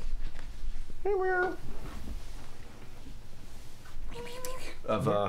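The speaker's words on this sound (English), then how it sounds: "We have a cat at the door." A pet cat called Kiki meows at a door, giving one short meow early and two more near the end, heard close amid people talking indoors.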